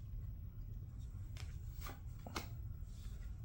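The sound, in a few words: flipping a tarot card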